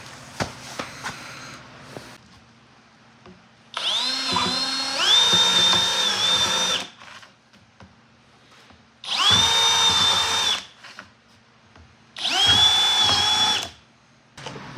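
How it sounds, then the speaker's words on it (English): A power drill bores holes in PVC pipe for a small strawberry-growing setup, with three sustained whining bursts of a few seconds each separated by quiet pauses and light handling clicks, close and loud. "Next, I'm going to drill some holes in this PVC."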